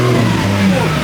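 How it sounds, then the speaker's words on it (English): A built Toyota 1JZ engine swapped into a Nissan 350Z, on first start-up and running near 1,000 RPM, gets a small blip of revs. The steady engine hum sits close and loud, with voices over it. "Give it a tiny little rev."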